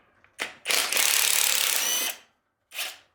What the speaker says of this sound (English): now we got to break the other ones with a wrench